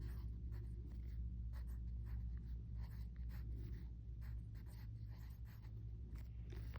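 Pencil or pen scratching across paper while working through a decimal division problem, a continuous soft scraping close up with no voices.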